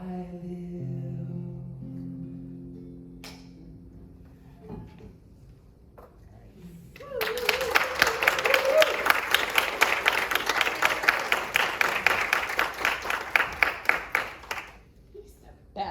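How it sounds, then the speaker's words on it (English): Applause breaks out at a Sunday service, a dense burst of clapping that rises suddenly after quieter sounds and continues steadily for several seconds before fading out. "Big applause."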